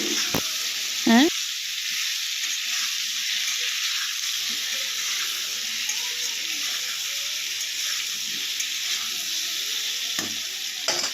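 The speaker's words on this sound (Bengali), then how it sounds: "এখন আলুটাকে সুন্দর করে লাল লাল করে ভেজে নেওয়া হবে।" Potato pieces seasoned with salt and turmeric fry in a pan with a continuous close sizzle, plus a few stirring clinks near the start and again toward the end.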